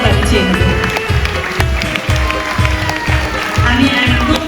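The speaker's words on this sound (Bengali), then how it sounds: "আরো একবার সকলের কাছে একটু জোরে করতালি চেয়ে নেব" An audience in a packed theatre hall at a cultural function gives sustained applause, a thick, even clatter of hands under a steady rhythmic low thumping, loud and continuous.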